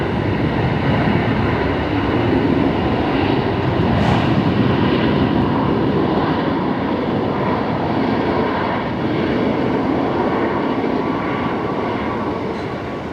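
A Qantas airliner at Brisbane Airport on a rainy night gives a loud, steady roar that swells slightly and holds for many seconds, with no talk.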